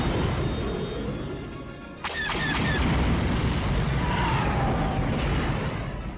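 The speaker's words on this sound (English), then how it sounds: "Big explosions and Darth Vader breathing." Loud, continuous rumbling explosions from the video game Star Wars Rogue Squadron II: Rogue Leader fill the whole clip, with a brief sharp crash and metallic ringing partway through.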